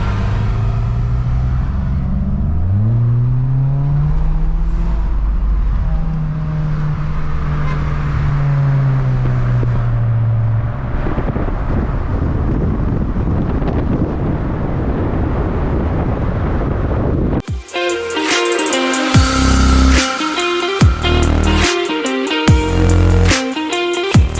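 Modified cars in a Republic Day car rally on the old Pune-Mumbai highway, including a Polo GT TSI, pulling in with engine drone and rising revs, then a sudden loud burst of louder, rougher exhaust noise near the end.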